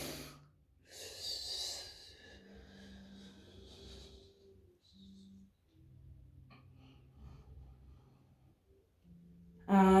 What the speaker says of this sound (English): A nice slow exhale, bringing it down.